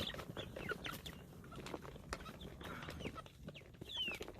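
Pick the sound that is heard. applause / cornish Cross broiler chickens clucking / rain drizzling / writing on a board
cornish Cross broiler chickens clucking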